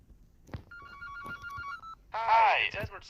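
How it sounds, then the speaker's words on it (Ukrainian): Telephone ringing inside a home office in the horror game Child in Yellow, a repeated electronic bell trill in two short bursts, followed by a louder, closer voice talking over the end. "Нам зараз мають подзвонити на телефон."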